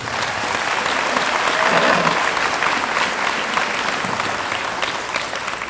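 A steady round of crowd applause fills a high school honors night hall for the students, dense even clapping with a few faint cries, continuous throughout before tapering slightly at the end.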